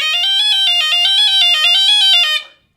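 A bagpipe phrase played with open fingering on a bellows-blown gaita, a bright reedy melody stepping through quick ornamented notes over a steady tone, loud and close, ending abruptly.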